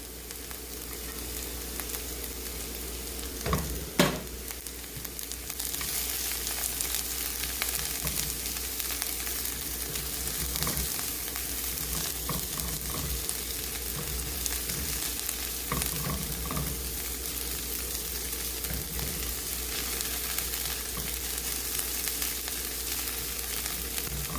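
Garlic fries in a pan before white wine goes in for mussels, a constant dense sizzle lasting throughout with occasional scrapes and clinks of stirring, close and fairly loud, no voices.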